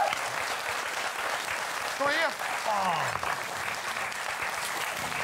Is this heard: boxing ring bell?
no